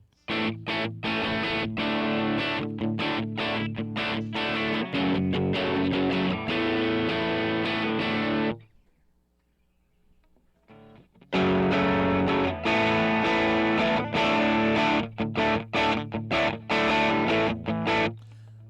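A heavily distorted electric guitar plays thick, driven riffs, breaks off into a brief quiet gap with a faint held note, then resumes loud and crunchy.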